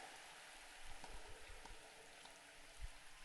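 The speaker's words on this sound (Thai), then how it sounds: "ฝนตก ฝนตก" Steady rain falls in the Slender Man video game, a continuous broadband hiss with a few soft low thumps scattered through it, no voices over it.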